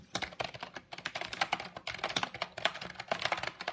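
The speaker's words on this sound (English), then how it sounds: "Like, now click the keys a little bit." Keys clicking on a Razer keyboard, a quick irregular run of close, crisp clacks typed in bursts with no talking.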